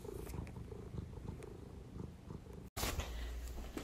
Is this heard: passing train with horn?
no